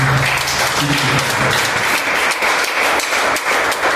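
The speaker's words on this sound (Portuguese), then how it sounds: "Vamos dar uma salva de palmas para Jesus." A church congregation standing and applauding for Jesus, a dense, steady wash of many hands clapping that stays loud throughout, with faint voices mixed in.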